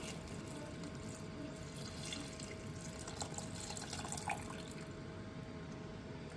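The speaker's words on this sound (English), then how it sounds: "I've also got 600 ml of water. I'm just going to pop that in there as well." Six hundred millilitres of water poured into a soup pan make a steady, moderately faint splashing and trickling wash that runs unbroken for several seconds, with no voice over it.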